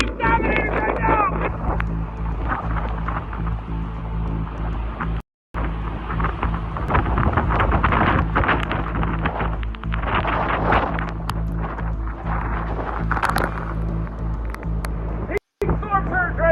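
Hurricane Ian's eyewall roars over the south side of Pine Island with storm surge, a loud, continuous wind and storm rumble with gusty swells, broken by two brief dropouts.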